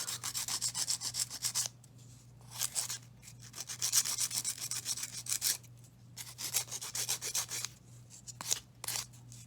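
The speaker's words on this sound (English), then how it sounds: "to make sure that this is kind of even, go ahead and sand off any excess" Sanding off excess on a handmade craft fair piece: close, quiet rasping strokes in repeated bursts separated by short pauses, with no speech.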